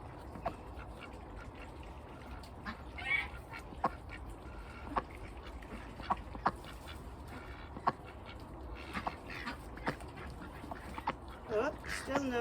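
Ducks quacking in alarm, scattered sharp calls repeating irregularly over a steady outdoor background, with a person talking at times in between.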